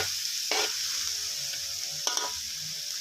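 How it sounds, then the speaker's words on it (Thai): Naem, Thai fermented pork, sizzling and being stir-fried in a pan for fried rice, with a steady hiss broken by two sharp bursts of scraping and tossing. "ใส่แหนมลงไปนะครับ แล้วเราก็ผัดคลุกเคล้าไปนะครับ"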